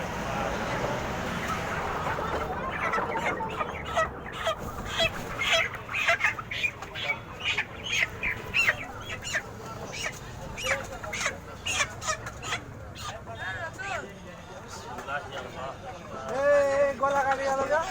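A chicken clucks and squawks in agitation just before being slaughtered, its calls fairly close and scattered through loud, frequent talking by several people nearby.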